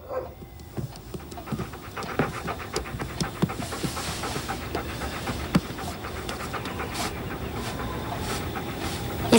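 A dog panting close by in steady rapid breaths throughout, over a faint rumbling background, with no talking.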